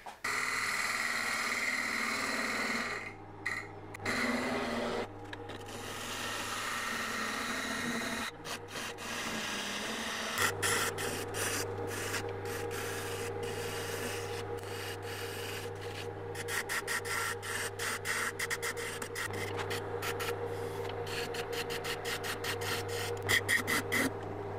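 A steady scraping, rubbing sound of a woodturning tool cutting into a spinning afromosia wood bowl, continuous over a constant low lathe motor hum with brief pauses.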